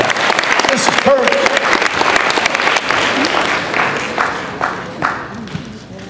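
Vigorous clapping from a high school audience at Clear Lake High School, loud at first and then thinning out into scattered claps, with voices talking through it.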